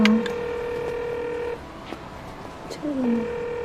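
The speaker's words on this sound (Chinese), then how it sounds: "那你就给他打电话，你问问。" Telephone dialing tones from a call being placed: a sustained tone broken by several short beeps, fairly quiet and clear, with no talk over them.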